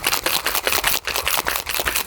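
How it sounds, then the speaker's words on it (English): A cocktail shaker tin shaken hard with ice, giving rapid rhythmic rattling bursts of ice clattering against metal, loud and close, continuing for about two seconds with no talk. "Give it a nice hard shake."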